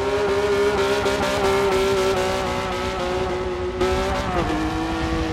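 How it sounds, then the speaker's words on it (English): A race car drifts through a slalom section at a Daytona racing event, its engine holding a loud steady drone with sustained tire slide hiss, the pitch dipping briefly near the end before resuming, continuous and close. "Oh, sweet drift through there."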